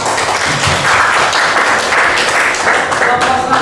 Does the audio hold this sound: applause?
yes